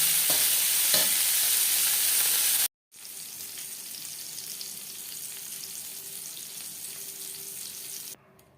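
Eggplant (begun) slices frying in a pan, a steady close sizzle that cuts out briefly and resumes more softly, with no talking.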